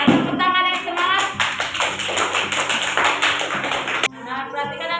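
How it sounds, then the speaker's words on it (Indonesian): Hands clapping in a classroom, a steady patter of applause from a group of pupils running for about four seconds under a teacher's voice, then fading as she starts talking again. "yuk kita tepuk tangan untuk kita semua"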